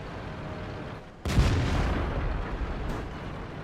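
A single heavy cannon shot from an E-50 tank in a video game booms out abruptly after a low idle rumble, then decays into a rolling echo with a faint secondary crack.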